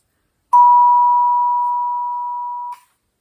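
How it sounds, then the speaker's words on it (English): A single struck Vibra-Tone bell, also called a Wah Wah Tube, rings out as a clean pure tone that holds for about two seconds and fades slightly before being cut off by muting. "I completely mute the bell."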